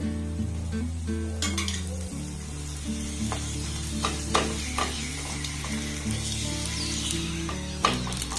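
Aloo paratha frying in a little oil over a low flame, a close, steady sizzle broken by occasional spatula scrapes and clinks against the pan, with background music playing and no talk.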